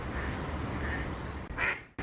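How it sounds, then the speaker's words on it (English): Ducks quacking near a weir by the old corn mill and forge at Oughtibridge, several nasal calls over steady rushing water, with one loud close quack toward the end. "We've also got the noisy ducks."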